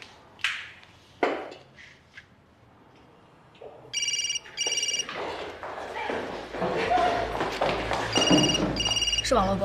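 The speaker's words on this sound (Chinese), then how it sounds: "接电话" A telephone rings in repeated bright electronic bursts during a tense indoor crime-drama scene, cutting in over people talking, with a few dull thuds earlier on.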